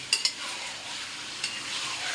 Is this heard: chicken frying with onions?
yes